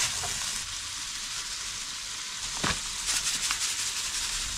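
Onions sizzle and fry steadily on a stovetop cooker, a close, continuous crackling hiss with a few brief louder spatters.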